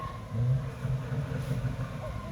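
A souped-up car engine revs at a moderate distance, a low rumbling drone that swells early and then holds at a steady throaty level with no voices.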